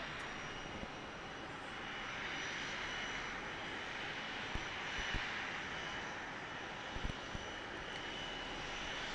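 ATR turboprop airliner at Christchurch Airport, New Zealand, at sunset, a steady distant propeller and engine drone with faint intermittent clicks, no voices.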